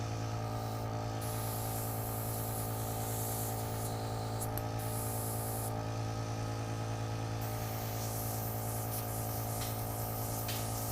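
An airbrush gun sprays alcohol through to clean itself out, making a steady, close hiss with a low hum underneath that continues unbroken for the whole stretch.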